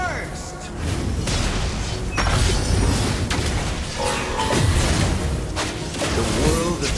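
A fire skill explosion called Lava Burst goes off in the Mobile Legends game as Valir casts it, a loud booming blast layered with dense battle effects and a character voice line throughout.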